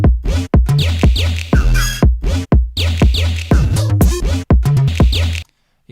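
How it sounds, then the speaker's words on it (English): A tuned kick drum with sub bass and tonal elements plays a punchy repeating pattern of deep thumps mixed with pitched synth sounds, loud and close, with brief gaps between hits and no voices. "together, the kick and all those tonal elements from before sound like this"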